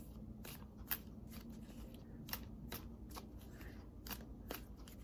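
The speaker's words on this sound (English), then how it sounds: "Sorry for the long shuffle." Tarot cards are shuffled close up in a quiet room, with soft repeated riffling snaps at an uneven rhythm over a low steady hum.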